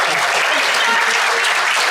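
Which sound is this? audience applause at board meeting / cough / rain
audience applause at board meeting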